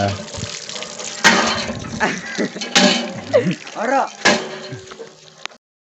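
In a village, water is drawn for drinking: splashing and running water comes in several uneven bursts with clunks between them, mixed with talking, before it cuts off at the end.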